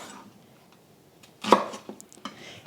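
A knife slicing a shallot into strips on a cutting board, one sharp loud chop followed by a few lighter, quieter cuts.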